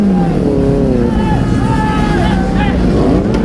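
Kawasaki ZX-10R motorcycle engine revving loudly up and down through a wheelie at a college event, rising and falling harmonic whine, close and continuous, with crowd chatter and voices underneath.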